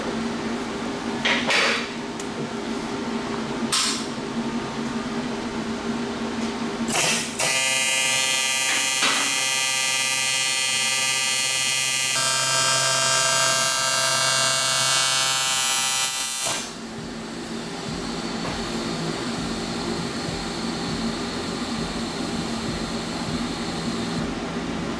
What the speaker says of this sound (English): I got a respirator now that actually fits with the mask, and I can weld now.